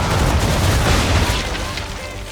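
Musket volley and explosions in Assassin's Creed 3, a dense, loud burst of gunfire and booming blasts rolling together, then slowly tapering off.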